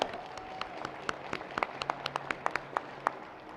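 Sparse applause from a small audience at an agricultural innovation pitch competition, with distinct individual claps rather than a dense roar, fairly close and steady for a few seconds.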